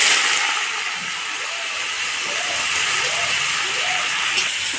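Boiled jackfruit and potatoes frying together in a kadai, a close steady hiss and sizzle throughout with faint murmuring voices beneath.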